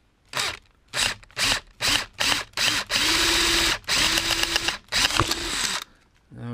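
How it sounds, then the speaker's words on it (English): A power drill drills out a part on an orange project, loud close whirring bursts in short repeated pulses with pauses, one longer sustained run, and a quieter ending. "All I do is have to finish drilling out just a little bit of portion."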